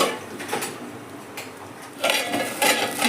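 A lid goes onto a pot of potatoes frying in oil, giving a few sharp metallic clatters and clinks, the loudest near the end, over a faint kitchen background.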